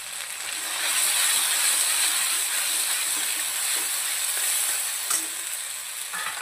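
Chana masala frying in a pan while being stirred, a dense, continuous loud sizzle with a steady hiss and occasional soft scrapes, no voices.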